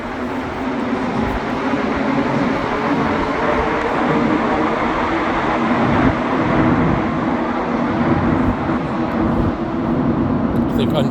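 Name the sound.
Montreal Metro train leaving Snowdon station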